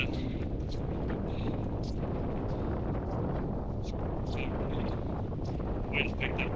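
Wind buffets the microphone on a hillside hike between Llyn y Fan Fach and Llyn y Fan Fawr, a constant loud rumbling roar with occasional gusty flutters and crackles.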